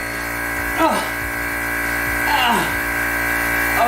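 A vacuum chamber pump with a person's arm sealed inside draws air out, giving a steady droning hum with brief swelling whooshes near the start and again toward the end.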